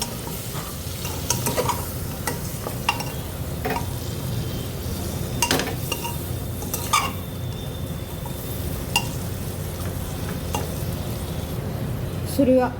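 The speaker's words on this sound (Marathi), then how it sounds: "एक चमचा काळा मसाला, हे छान असं मसाल्यावर भाजून घेऊया" Black masala spice roasting in a pan for a mutton curry, a steady close sizzle with occasional scrapes and clinks of a spoon stirring, continuous with no talk.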